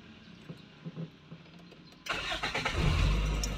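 A Toyota Corolla EFI 16V fitted with a new idle-up part cranks and fires up abruptly, then settles into a steady, loud idle close by after a quieter lead-in.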